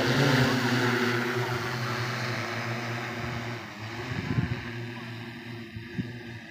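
Agricultural spraying drone flying over a farm field, a steady buzzing rotor drone that fades slightly as it moves off, with faint voices and a few thumps nearby.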